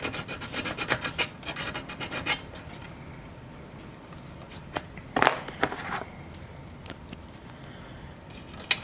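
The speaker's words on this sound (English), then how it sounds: "I'm just gonna take my file and just smooth these out a little bit" Hand file smoothing the edges of a servo linkage on an Eternity F5J glider tail boom: dense rasping strokes up close, busy at first, then sparser scrapes and clicks with pauses, no talk.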